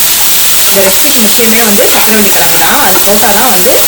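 Sweet potato and other gravy ingredients sauté in a pan for a chicken curry, producing a loud, steady sizzle close up while a person talks over it throughout.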